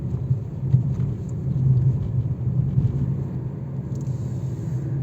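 A vehicle drives along an empty road after night rain, with a continuous low engine and tyre rumble held steady and fairly close throughout.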